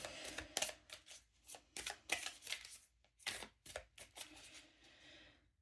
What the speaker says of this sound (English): Hang on, I'm going to shuffle a tiny bit.